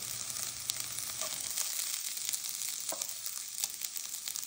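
Chicken pieces sizzling and browning in a hot pan, a steady dense crackle of frying oil with occasional sharper pops, close and continuous, no voices.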